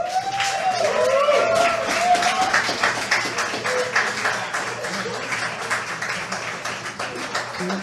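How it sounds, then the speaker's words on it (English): Audience applause after a poetry reading at a live spoken-word event: many hands clapping in a crisp, continuous patter, with a voice whooping or calling out early on, the clapping easing slightly as it goes. "Another round of applause."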